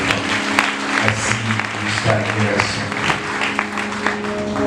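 Congregation applauding at an evangelical church service, a broad steady wash of clapping that fills the whole stretch at moderate loudness, with a voice speaking over it.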